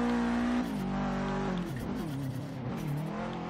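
A 500hp Subaru WRX STI street build in Forza Horizon 3 roars loud and close. The engine holds a strong revving tone, then drops and rises through gear changes, with a hint of tire squeal.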